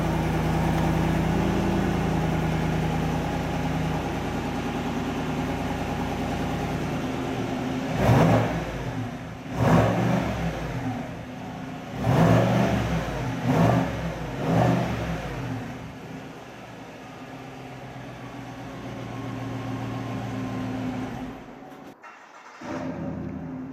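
Chevrolet engine with Chevy Performance intake and exhaust idles, then gets several loud revs in short bursts, each dropping back to a steady rumble, before a brief cutoff.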